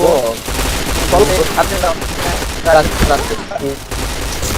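Rapid bursts of automatic gunfire from the shooter game Point Blank rattle through an online match, with a voice talking over the shots at times.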